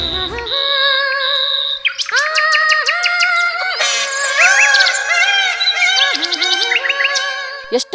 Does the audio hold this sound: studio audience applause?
no